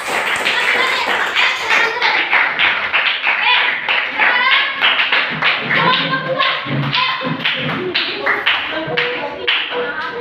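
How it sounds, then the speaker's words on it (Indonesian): An audience applauds a student group in a classroom, producing dense rapid clapping that runs the whole time alongside loud overlapping voices and cheering. "Sekarang beri tepuk tangan buat kelompok 1."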